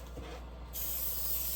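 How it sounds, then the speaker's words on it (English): Basting spray hisses onto a design board held over a trash can, a short soft burst followed by a louder, steady spray. "And I only spray half the board at first."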